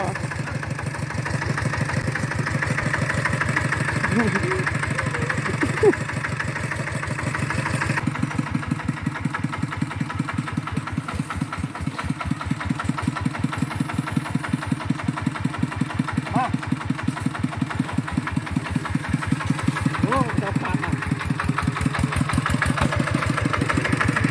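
A vehicle engine rumbles steadily while the car reverses through muddy forest ground, a loud continuous idle-like drone with a regular low pulse, faint voices beneath.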